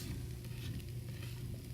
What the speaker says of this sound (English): it's good to let the oil heat for a bit prior to putting them in, so you kind of hear that sizzle as it goes in.